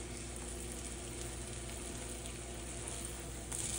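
Croissant French toast soaked in egg and vanilla frying in butter in a pan, a steady soft sizzle with no pauses and no talking.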